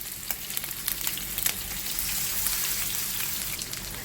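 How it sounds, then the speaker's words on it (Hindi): Peshawari chapli kebabs made with beef frying in a pan of oil, a continuous crackling sizzle with scattered pops, close and fairly quiet, with no voices. "मैं ऐसे ही इनको फ्राई कर रही हूँ"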